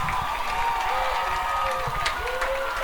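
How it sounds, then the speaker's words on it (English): Crowd at a high school football game between Deer Valley and Liberty cheers and applauds in a steady loud roar, with whistles and shouts rising through it. "And listen to this crowd."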